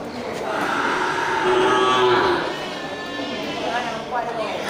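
Beef fattening cattle moo with a long, low call near the start at a cattle market, while voices murmur in the background.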